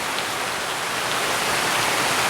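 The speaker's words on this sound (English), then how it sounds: "It's raining," Heavy rain falls steadily across a backyard, a dense and continuous hiss that stays loud and even throughout, with no voices.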